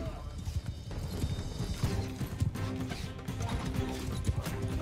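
Horse hooves gallop in Mount & Blade II: Bannerlord, a steady rapid clip-clop running through the whole stretch with a faint whinny, while someone talks over it.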